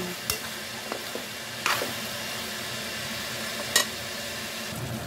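Pork, soy sauce and potatoes stirred in a pan, giving a steady low sizzle with a few sharp scrapes and clacks of the utensil spaced through the clip, close and moderately loud, with no talking.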